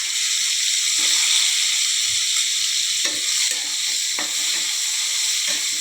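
Eggplant frying in hot oil with nigella seeds, a loud steady hiss and sizzle throughout, with a few soft knocks of stirring and no voices.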